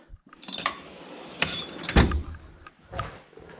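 A few metallic clatters and knocks as small hard parts drop into a metal drawer, with a sliding rumble, close by and brief.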